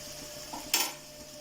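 Bitter gourd pickle being stirred in a pan, a quiet scrape followed by one brief sharp clink of the spoon against the pan, close and alone.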